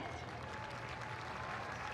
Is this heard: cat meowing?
no